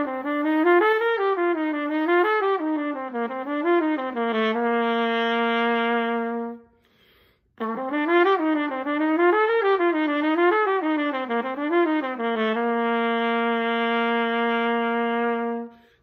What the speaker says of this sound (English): So when I play, I'm going to play number 1 from the Clean Technique for Trumpet Lesson 4 Efficient Fingers